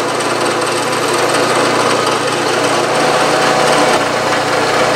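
A drill press whirs in a continuous drone, steady throughout, loud and close, with a slight shift in tone partway through as the bit works into a small brass fitting.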